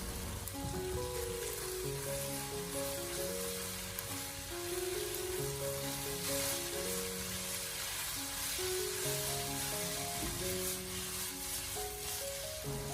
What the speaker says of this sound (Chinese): 我们持续的将胡萝卜继续的翻炒2分钟左右，先把胡萝卜炒熟炒软。